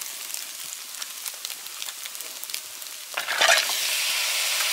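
Rice with yen ta fo sauce and mala hisses and crackles as it is stir-fried in a hot pan, a steady sizzle with scraping stirs and a louder burst of frying near the end, close up with no talking.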